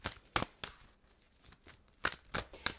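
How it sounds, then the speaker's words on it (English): Tarot cards shuffled by hand in a few crisp bursts of riffling and slapping, separated by quieter shuffling, close up with no talking. "But let's shuffle."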